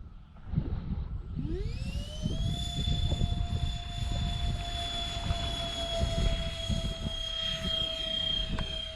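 Dynam Me262 model jet with twin 70mm electric ducted fans spooling up for takeoff, a rising whine that settles into a loud, steady high-pitched drone over a broad rushing roar, close by and continuous, with no talk.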